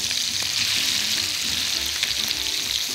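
Portions of zander fish fry skin-down in clarified butter in a pan, giving a constant, close hiss and sizzle that stays even throughout with no talking.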